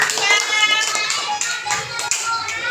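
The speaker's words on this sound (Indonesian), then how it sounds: "Iya, tepuk tangan untuk kelompok 3." Children in an Islamic studies classroom clap together for a class group, a dense, steady patter of many small hands held at an even level throughout.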